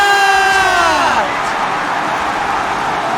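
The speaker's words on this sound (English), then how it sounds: "The crowd on their feet, also to throw it in the face of Buzz" A crowd cheers and roars loudly at a Valorant esports match, DSG versus OREsports at VCT NA Challengers, with a broad, steady wash of noise under a caster's voice for the full few seconds.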